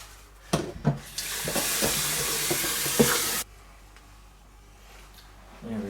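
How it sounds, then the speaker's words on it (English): Water pours steadily into the removable reservoir of a Philips 3200 series fully automatic coffee machine, a continuous splashing rush of about three seconds framed by a few plastic clicks and knocks, fairly close with no talk. "The water goes in very nice and without any problems."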